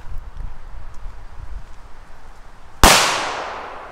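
A DUMBUM Pirát firecracker with a fuse goes off in a single sharp, loud bang that rings out and decays slowly, preceded by a few seconds of quiet rustling and soft outdoor ambience.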